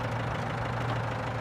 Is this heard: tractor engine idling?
yes